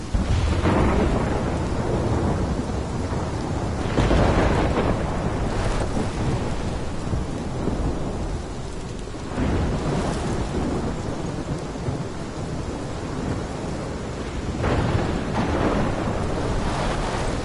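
Thunderstorm in the Life Is Strange game: steady heavy rain with deep rolling thunder cracks swelling at intervals, loud and continuous throughout, no voices.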